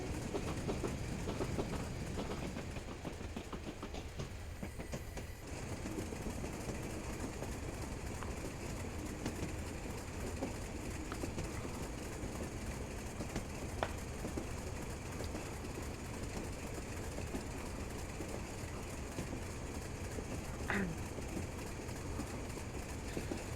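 Class 35 locomotive running on rails in the Train Sim Classic game, a continuous loud engine drone with rhythmic clickety-clack of wheels over rail joints and occasional faint birdsong.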